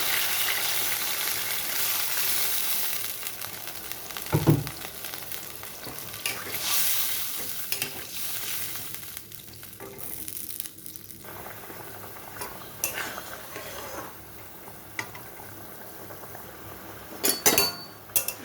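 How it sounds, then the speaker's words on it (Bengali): Gravy for chhena, banana and potato kofta bubbling in a pan with ghee, a steady sizzling simmer with occasional stirring scrapes and light clinks, moderately quiet and continuous. "ঝোলটা খুব ভালোভাবে ফুটে গেছে"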